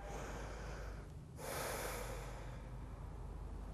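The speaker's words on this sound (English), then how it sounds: "take a nice deep breath" A single deep inhalation taken during a seated stretch with one arm reaching up, a rushing breath swelling in the middle of the clip over a steady low background hum.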